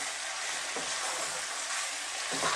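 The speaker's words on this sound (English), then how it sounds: "at this stage I'm now going to add some mushrooms" Sliced white mushrooms tumble into a pan of frying Jamaican pork curry, bringing a steady, close frying hiss and sizzle with faint stirring touches.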